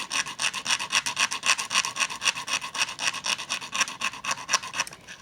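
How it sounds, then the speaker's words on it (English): A small round file rasps a hole in a wooden box, in rapid, even back-and-forth strokes that sound close and loud, continuing rhythmically for several seconds before stopping. "Just happen to have the nice little round file, which will do that."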